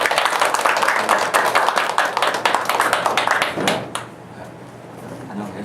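Audience clapping at a church gathering welcoming a pastor, a dense burst of many hands that runs steadily for several seconds, then stops abruptly and leaves quiet room tone.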